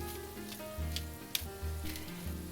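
Freshly ground peppercorns sautéing in a pan over a medium flame give a soft, steady sizzle, with a few faint clicks and taps of a utensil, alone and fairly quiet.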